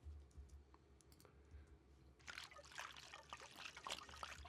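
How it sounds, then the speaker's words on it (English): Liquid pours in a horror sound-design session, starting as a faint trickle and turning into a brighter, busier splashing pour partway through, quiet and close with no voices. "let's start with a pour liquid"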